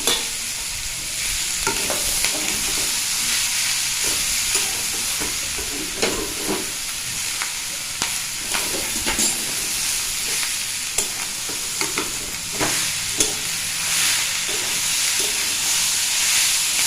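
Snails, pre-fried with salt and turmeric, fry in a hot pan with continuous sizzling while a utensil repeatedly scrapes and stirs, producing periodic clattering knocks.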